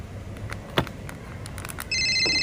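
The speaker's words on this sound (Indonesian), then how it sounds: "Ada telepon." A telephone ringtone starts near the end with a steady electronic trill that rings loud and close over quiet room noise. A single sharp knock comes just before it.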